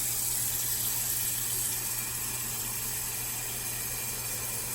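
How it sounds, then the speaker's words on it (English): Water from a kitchen tap runs steadily into a pot, a constant hissing flow at moderate volume with a low hum behind it and no speech. "the first thing I'm going to do is fill this pot up"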